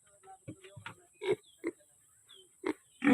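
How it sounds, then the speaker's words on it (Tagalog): Two pigs grunt in short, separate snorts and oinks at close range, with quiet pauses between each grunt in a backyard pen. "dua ka baboy, dua ka baktin"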